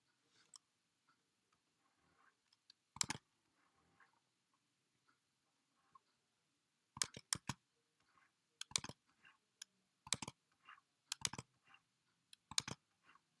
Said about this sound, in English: You guys can probably hear when I hit the keys.